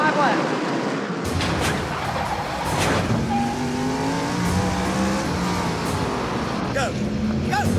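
Race cars roaring away at a green-flag start of a 25-lap race, engines revving and whining up through the gears, close and loud, with excited voices shouting over the noise.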